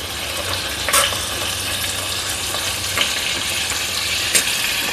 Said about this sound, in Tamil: இது வந்து ஒரு 5 மினிட்ஸ் கொதிச்சதுன்னா போதும்